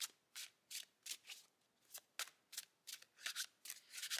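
Oracle cards from a faerie and botanical deck are shuffled by hand in a quiet room, giving about a dozen crisp riffling bursts spaced roughly evenly, close and fairly soft, with no talking.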